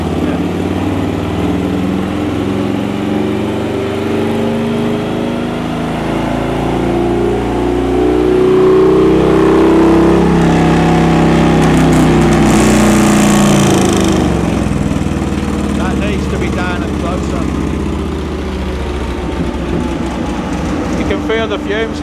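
A motorcycle engine revving hard during a run on a Dynojet dynamometer, a loud sustained drone that climbs and swells in pitch toward the middle before settling, close and continuous throughout.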